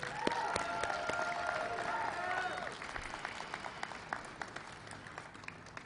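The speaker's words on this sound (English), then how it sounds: "Give yourselves a round of applause, please." Rally crowd of striking Kellogg's workers and supporters breaking into applause, a dense wash of clapping with scattered cheers and a few whistles, moderately loud, with voices over it at first.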